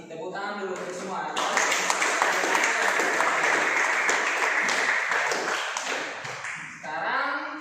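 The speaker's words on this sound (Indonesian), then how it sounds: "Tepuk tangan dulu untuk semua." Classroom applause for everyone, a dense burst of many hands clapping that swells in, holds steady for several seconds and fades, with voices talking just before and after.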